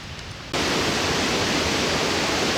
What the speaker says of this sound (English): You can hear the creek going by.